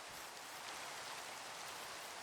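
Rain falling in a Minecraft world, a steady, dense hiss of raindrops that holds even and unbroken throughout, with no voices.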